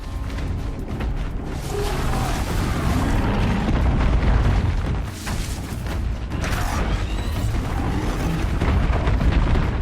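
Thunderjaw machine in the Horizon Zero Dawn video game firing explosive shots, heavy booms and mechanical clanking filling a dense, loud game soundscape throughout.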